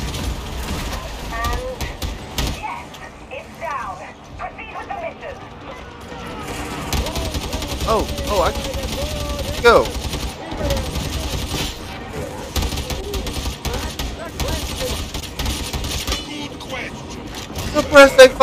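Rapid bursts of game gunfire from Darktide, a volley of crackling shots and mechanical clatter layered under continuous player talk and shouting over roughly eighteen seconds, with a louder flurry near the end.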